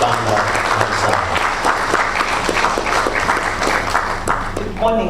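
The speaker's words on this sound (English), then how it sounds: "Ladies and gentlemen, a round of applause" Audience applause at a formal institute ceremony, sustained dense clapping from a crowd at moderate distance, with voices talking over it.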